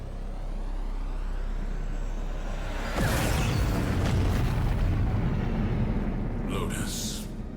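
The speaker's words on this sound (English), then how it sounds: "Space explosions." Space explosions in the video game Warframe: a sustained low rumbling blast swells in about three seconds in and rolls on loudly, with brief hissing bursts near the end, over a steady background drone.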